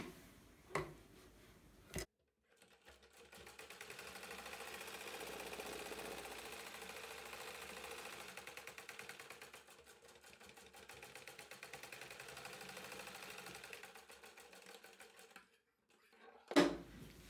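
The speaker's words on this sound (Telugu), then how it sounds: "ఇంకొక కుట్టు వేసుకోవాలి." A sewing machine stitches a blouse in a long, even burst of rapid needle rhythm, close and fairly quiet, with sharp clicks just before it starts and after it stops.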